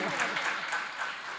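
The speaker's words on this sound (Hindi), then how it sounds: "तो सभी अपने अपने लिए एक बार जोरदार तालियां, नहीं अपने अपने पड़ोसी के लिए बजा दें।" A crowd of devotees claps together at a religious discourse gathering in Keshavrai Patan, a brief dense burst of applause filling the hall.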